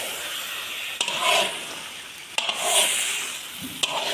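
Spoon stirring carrot halwa with khoya and dry fruits in a pan, giving a soft scraping, sizzling texture with a few sharp knocks against the metal, fairly quiet and without talk.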